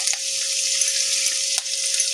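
Dry and green chopped chilies with curry leaves fry in oil over a low flame for a Peanut 65 snack, a steady close hiss and sizzle with a couple of faint stirring ticks.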